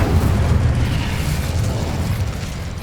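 Fire spell cast during combat in Hogwarts Legacy, a fantasy video game, giving a loud continuous low roaring whoosh and rumble that holds steady for about three seconds with no talk over it.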